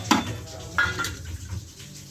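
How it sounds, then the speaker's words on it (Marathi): Yogurt and salt are whisked in a bowl, with a few sharp clinks of a utensil against the bowl over a soft scraping churn, close and fairly loud. "एवढं सॉल्ट दह्यामध्ये आणि फेटून घेते पातळ."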